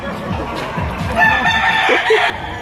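A rooster crows loudly nearby over a low murmur of background noise at a market in Lipa, Batangas, Philippines, with some clucking before and after the crow.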